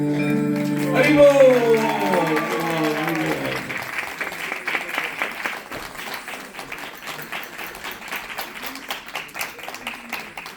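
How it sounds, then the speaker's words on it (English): A hall audience at a Seattle youth kids' dance show for Harivilas Maharaj's 80th birthday breaks into warm, sustained clapping as the closing music fades out, the applause dense and steady for several seconds. "Again, a big round of applause."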